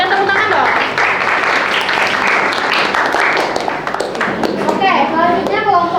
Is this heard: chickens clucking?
no